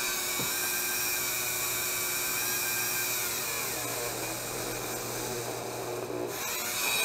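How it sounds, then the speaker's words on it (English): A Dremel rotary tool fitted with a drum bit whines steadily and loudly as it drills a small hole into EVA foam armor, running continuously with slight shifts in pitch and no talking. "So this is the Dremel tool, and this is the drum bit that I like to use to drill out like just a small hole."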